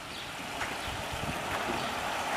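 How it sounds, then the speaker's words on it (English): A park brook runs past a line of stepping stones, making a steady babbling rush with gurgles, close by and moderately loud, with no voices. "here's a series of stepping stones across the brook."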